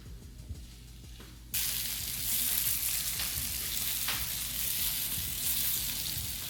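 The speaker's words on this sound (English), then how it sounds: "I'm just going to cook this until they're really nice and cooked down." Onions and crushed garlic frying in a pan, starting as a quiet low crackle and then jumping into a loud, continuous close sizzle that holds steady, no voices.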